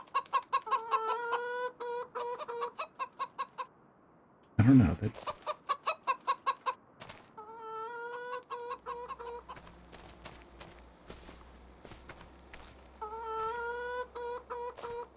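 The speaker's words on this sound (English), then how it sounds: "This totally looks like 473 chickens." Chickens in the farming video game Farming Simulator 25, set on Iowa plains, cluck in quick repeated bursts throughout, close and clear, with a short gap and a low thump partway through. A person talks briefly over them.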